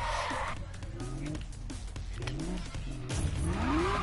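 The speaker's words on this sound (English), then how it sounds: "Now you have to do some burnouts." Car burnouts in a Need for Speed game, a revving engine with rising and falling pitch and tyre squeal, a strong rising whine toward the end, under a voice talking.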